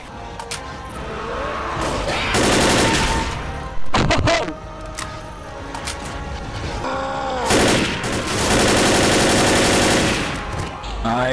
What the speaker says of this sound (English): Three people are shooting at him.